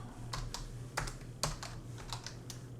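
Quiet keystrokes on a Windows PC computer keyboard, a short irregular burst of separate clicks close by under a low steady hum.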